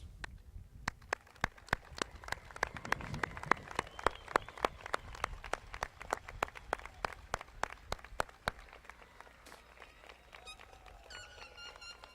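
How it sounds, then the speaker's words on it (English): Scattered applause at the Greeley West High School graduation ceremony as graduates turn to clap for their families, with sharp individual claps over a steady crowd murmur in a large hall. "So graduates, please stand, turn and applaud your support systems that have helped you"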